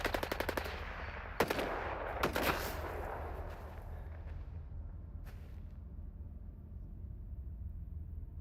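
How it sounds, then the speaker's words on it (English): S.T.A.L.K.E.R. 2 gunfire plays at a distance, with bursts of rapid automatic shots and a few single cracks early on that fade into a low rumble, and one more faint shot follows. "Who are these shooting at though?"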